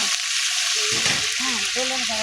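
Green chillies and onions fry in a pan with a constant bright sizzle, while someone speaks over it in Telugu.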